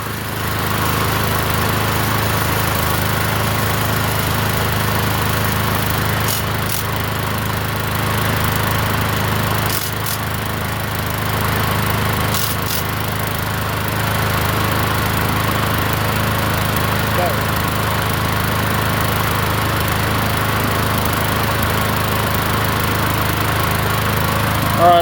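A free 21-inch Murray push lawn mower engine running steadily and loudly nearby, a constant drone with a rattle, with a few brief clicks over it.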